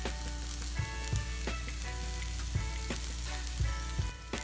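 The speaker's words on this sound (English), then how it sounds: "So I'm going to add the spice mix and the garlic and just kind of dry fry with the culantro as well." Spice mix and garlic dry fry with culantro in a pan, a soft steady sizzle punctuated by a few scraping stirs, close and fairly quiet.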